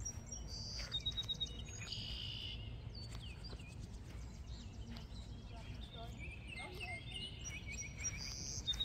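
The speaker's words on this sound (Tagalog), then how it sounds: "Naghuni-huni ang mga ibon." Birds chirp and sing in a park on an overcast day, with repeated short high calls scattered over a steady hum of outdoor background noise.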